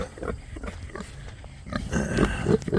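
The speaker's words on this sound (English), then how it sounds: "I'm down here with the pigs, and pork chop." Pigs in a pen grunting and snuffling nearby, irregular low grunts and rustling throughout, busier toward the end, with no talking.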